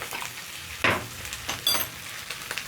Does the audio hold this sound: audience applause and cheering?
no